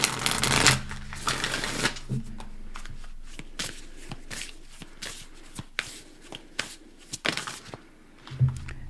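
A deck of oracle cards is shuffled by hand close by, with a dense riffle at the start, then a long stretch of soft sliding and tapping card sounds and a final burst near the end.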